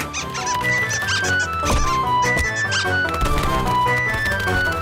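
Cartoon squeaks from the animated children's show Ben and Holly's Little Kingdom, short high-pitched chirps repeated over busy background music throughout.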